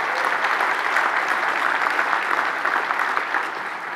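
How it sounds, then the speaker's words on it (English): Sustained audience applause fills a keynote hall, dense and even clapping from a large crowd that holds steady before easing slightly at the end. "Let's give them a huge round of applause."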